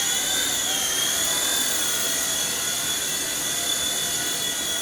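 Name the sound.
H911 iRocket RC helicopter flying indoors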